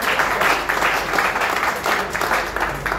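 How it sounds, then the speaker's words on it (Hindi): Audience at a community sabha gathering claps steadily for a few seconds, a close, fairly loud burst with no talk over it. "तो एक बार जोरदार ताली आप सभी के लिए।"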